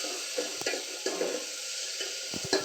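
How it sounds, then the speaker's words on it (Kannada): Lentils and onions frying in a pan for a sambar, a steady close sizzle broken by a few sharp scraping stirs, no voices. "ಚೆನ್ನಾಗಿ ಫ್ರೈ ಮಾಡ್ಕೊಂಡಾದ್ಮೇಲೆ"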